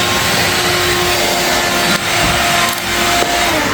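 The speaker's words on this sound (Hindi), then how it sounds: "अब मैं करती हूँ यहाँ से वैक्यूम" A household vacuum cleaner drones steadily during house cleaning, a loud, close, continuous whine with brief dips as it is moved about, and no voices.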